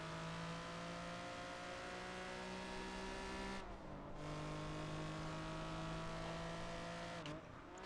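Race car engines droning and shifting in Project Gotham Racing 4, a steady layered whine that rises and drops at gear changes, continuous and fairly quiet with no voices.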